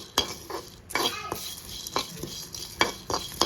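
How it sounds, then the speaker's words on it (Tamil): Curry leaves are dry roasted in a pan without oil, with a spoon scraping and tapping against the metal in irregular strokes, crisp dry rustling between them, close and alone. "இப்போ இது நல்லா ட்ரை ரோஸ்ட் பண்ணி எடுத்துக்கலாம்."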